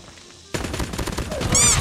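Razorback submachine gun in Call of Duty Mobile opens up after a half-second lull, pouring out a dense, fast stream of loud automatic shots that runs without a break to the end.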